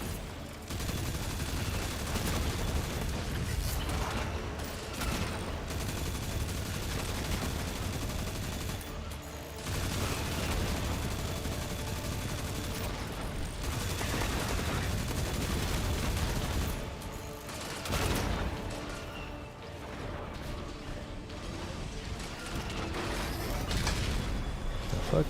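Video game gunfire, repeated bursts of shots and mechanical clicks over a dense, continuous game soundscape, with brief drops in level.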